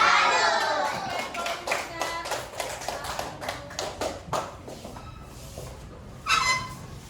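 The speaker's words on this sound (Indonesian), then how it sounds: "Oke, coba kita kasih tepuk salut lagi." Schoolchildren in an Indonesian classroom clap out the rhythmic 'tepuk salut' chant, a close run of sharp, unison hand claps in a patterned rhythm with children's voices chanting along, then a final burst near the end.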